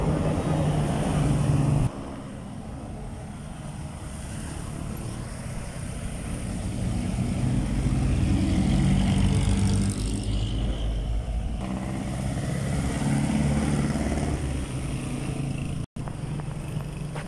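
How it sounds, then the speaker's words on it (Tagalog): Jeepneys and other traffic passing on a city road between San Fernando and Angeles City: broad, rumbling engine and road noise rising and falling as vehicles pass close by, with a brief sharp break near the end. "Vlog natin yung mga sasakyan na dumadaan,"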